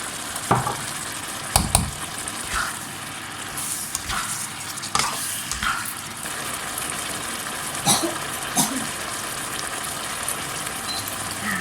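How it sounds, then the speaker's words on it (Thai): Fiddlehead fern stir-fried in oil with oyster sauce, with steady sizzling and frying and intermittent scraping stirs of a spatula against the pan, close and continuous throughout. "ผัดผักกูดน้ำมันหอย ใส่แต่น้ำมันกับน้ำมันหอยนะคะ"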